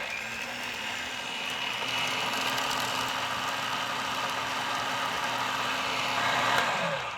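A food processor runs steadily on low, mixing pesto with garlic cloves, a continuous motor whir with a slight rise in intensity near the end and no talking.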